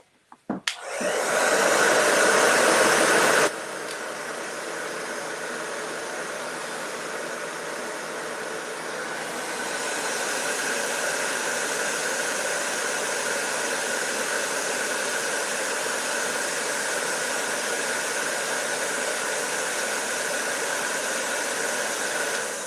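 A heat drying tool blows hot air on a Halloween craft piece, starting with a click and a loud steady whoosh that drops slightly in level, then a long continuous blowing drone close up, with no speech.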